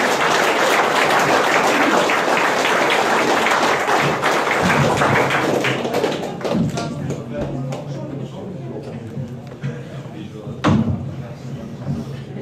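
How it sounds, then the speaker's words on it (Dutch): Applause from the audience at a Dutch ceremony where a former firefighter is appointed to the Order of Orange-Nassau by the mayor; loud, dense clapping fills the opening seconds, then thins and fades beneath murmuring voices and a few thumps. "Grote applaus."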